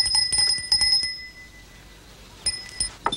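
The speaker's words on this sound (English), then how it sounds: "Harry, could you see why they aren't answering the bell?" A small hand bell is rung to summon servants in a period house, sounding as a quick cluster of bright ringing strikes, then a pause, then a few more strikes, close and clear with no talking.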